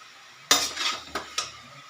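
A spoon stirring gravy-style curry in a pan: one loud metallic scrape followed by two shorter scrapes, close up, with no voices.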